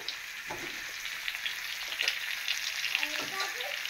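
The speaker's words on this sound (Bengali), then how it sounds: "আলুটা হালকা করে ভাজবো, খুব বেশি ভাজবো না" Potatoes frying lightly in a pan for chicken biryani, a steady close sizzle with soft crackles and a few stirring scrapes throughout, no talk.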